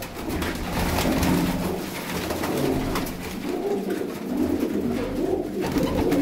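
Teddy patti pigeons cooing nearby, soft repeated throaty coos in a gentle rhythm over faint background noise, no talk.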